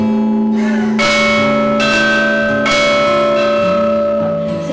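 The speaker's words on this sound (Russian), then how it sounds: "естественно, колокольный звон. Попробуем позвонить?" Loud church bells ring out at the Alexander Nevsky church in the village of Baltym, several heavy strikes a second or so apart, each leaving a long humming resonance that overlaps the next.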